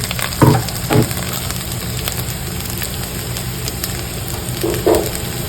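Hot water goes into a hot pan of stuffed brinjal, producing loud sizzling bursts at the start and again near the end, with a steady hiss and crackle in between.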